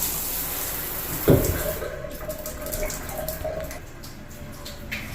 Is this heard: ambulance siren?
no